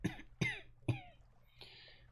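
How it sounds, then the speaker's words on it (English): A man's long, low chuckle turns into coughing: three sharp, throaty coughs in quick succession, close and fairly quiet, followed by a softer wheezy breath. "The chuckling becomes a cough"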